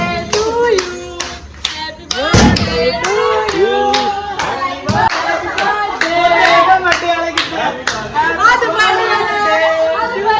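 Hands clapping at a birthday celebration, steady rhythmic claps from a group mixed with lively chatter and singing voices throughout.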